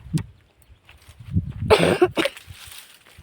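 Coughing from someone with a cold, a burst of rough coughs around the middle of the clip, close and fairly loud against faint outdoor background.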